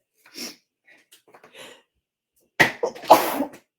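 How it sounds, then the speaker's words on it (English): A few faint breaths and sniffs, then a sharp, loud sneeze burst followed closely by a second explosive expulsion of air. "I'm going to sneeze."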